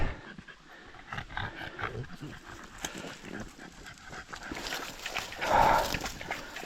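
Dogs pant in quick, rhythmic breaths close by, with faint rustling and shuffling, the breathing growing louder toward the end.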